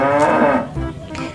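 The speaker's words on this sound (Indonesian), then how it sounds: "Ada hewan sapi mo." A toy cow gives one loud, close electronic moo, a drawn-out low bellow lasting about a second, heard alone.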